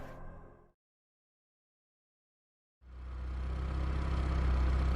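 A car engine in a zombie-apocalypse game scene starts up after about two seconds of silence and then runs as a steady, loud, low rumble to the end.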